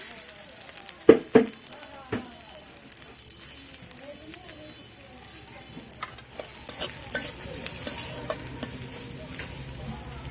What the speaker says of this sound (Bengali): প্রথমে বেরেস্তা ভেজে নিব। দিয়ে দিলাম পেঁয়াজ কুচি,